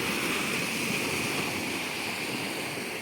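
Sea waves wash continuously on a shoreline near a small boat, a steady broadband surf rush with some wind noise across the whole clip.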